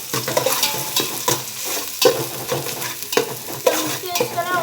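Potato biryani masala stirred and fried in a pan over fairly high heat: a steady, close sizzle runs throughout, broken by repeated scraping strokes of a spoon against the pan, with no talking.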